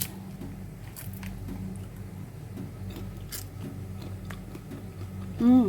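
Crispy air-fried Thai chicken skin crunches under soft, repeated bites and chewing close up, with a brief louder sound near the end.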